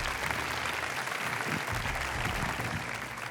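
Studio audience applause at a televised French talent show semi-final, a dense steady wash of clapping filling the room for the full stretch without a break.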